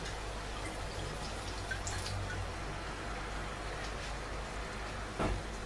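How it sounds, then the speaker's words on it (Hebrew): White wine poured into a pan of browned onions, giving a steady hissing sizzle with faint drips that runs unbroken and close for several seconds, with no voices. "אני אוסיף לו יין לבן"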